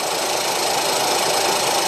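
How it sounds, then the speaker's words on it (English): A rebuilt 1.0 EcoBoost engine in a Ford Fiesta revs steadily, producing a dense, loud, close mechanical whir and hum with no pauses. "Give it a little rev now."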